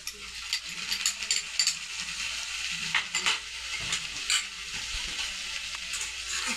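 Bitter gourd and tomato sautéing in a pan for a Maharashtrian karela bhaji, with a soft sizzle under rapid rattling spatula scrapes and clicks in uneven bursts, near and without talk.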